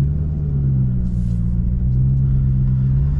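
Cabin sound of a modified 2001 Chevrolet Corvette Z06 being driven: a loud, deep, steady engine rumble with a low drone throughout, close and continuous, with no voices.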